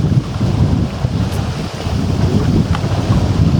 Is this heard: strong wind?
yes